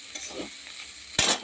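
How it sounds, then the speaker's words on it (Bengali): Fried bitter gourd crackles in a hot pan with a steady, close sizzling hiss, then a sharp, louder burst of sizzle near the end; no voices. "উচ্ছে ভাজাটা ঢেলে ফেলি"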